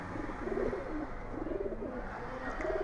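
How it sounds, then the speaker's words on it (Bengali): A pigeon coos repeatedly in soft, rolling phrases, close by, over a low background hum. "খুব সুন্দর একটা কবুতর"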